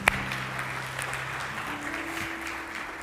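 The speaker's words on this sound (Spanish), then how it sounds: "un fuerte aplauso para el hermano Raúl." A church congregation applauding during a service, a soft and fairly distant wash of clapping that holds steady for a few seconds, with a low tonal hum beneath it.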